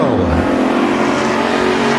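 Five race cars in a Bakersfield Speedway heat race roar off together at the green flag, engines loud, close and steadily revving as a dense sustained drone with no break.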